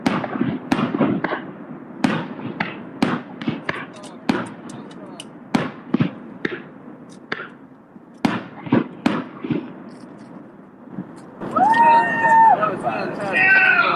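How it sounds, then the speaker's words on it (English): Small fireworks go off over a downtown sky as a series of sharp pops and bangs at uneven intervals, mixed with voices talking and exclaiming and a whistling tail near the end. "we're about to do a little demonstration on little fireworks"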